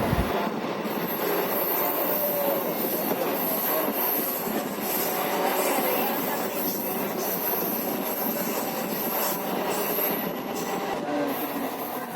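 A MEMU passenger train departing Nellore station rolls steadily along the rails with a continuous rumble and high metallic wheel squeal, no voices, sustained throughout.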